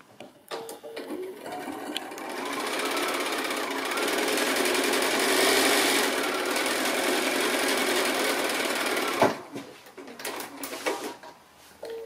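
A sewing machine stitches quilt block pieces with a quarter-inch seam, a steady mechanical whir running for several seconds before stopping, followed by a few light clicks and handling noises.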